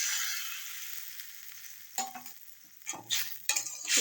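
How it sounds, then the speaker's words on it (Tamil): Tamarind water is poured into a hot pan while making rasam, setting off a bright, loud sizzle that gradually fades, followed by a few sharp metallic clinks of a utensil against the pan. "இப்போ வந்து இந்த புளி தண்ணியை இதில் விட்டுடலாம்"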